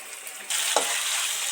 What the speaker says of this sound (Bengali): এবার এটা চামচ দিয়ে ভালো করে ফেটিয়ে নেবো